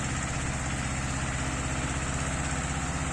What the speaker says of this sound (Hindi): ट्रैक्टर फेर रहा है मुंडा।